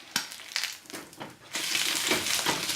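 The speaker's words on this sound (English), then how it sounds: "I've got my egg and tortilla ready to flip." An egg in a tortilla is flipped in a frying pan: a few soft scraping knocks, then a louder, steady frying sizzle that carries on to the end.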